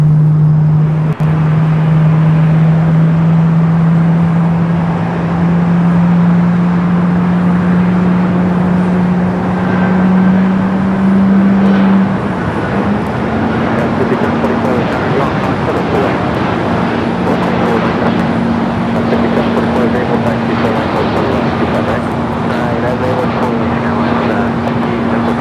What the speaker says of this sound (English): we do have a heavy Delta Flight 771 coming from JFK, 767-400ER up next for arrival on the north side.